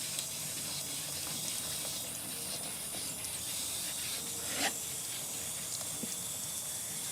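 Steady wet hissing and swishing as abrasive paper is worked side to side over a wet, oxidized car headlight, continuous and close, with a brief louder scrape near the end.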